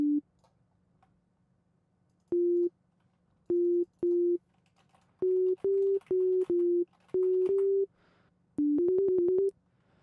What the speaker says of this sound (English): if we take our sine wave and write some eighth notes at mostly half-step intervals